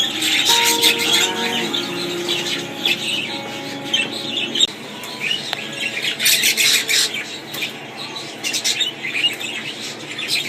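A flock of budgerigars in a 5 by 8 foot walk-in aviary flight chirps and squawks continuously, with busy overlapping chatter and a few clearer whistled calls near the start.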